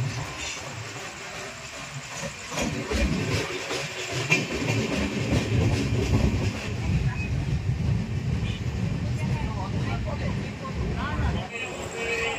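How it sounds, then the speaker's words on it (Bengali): A fast-moving 13149 Kanchankanya Express train near Barddhaman Junction, with a steady loud rumble and rattle of the carriages running throughout, and voices talking over it. "ট্রেনটা এত জোরে ছুটছিল"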